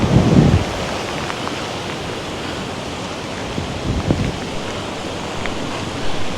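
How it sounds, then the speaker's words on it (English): Hurricane wind in Jamaica, a loud continuous roaring rush with gusty buffeting and low rumbles, no voices. "the wind is now picking up again"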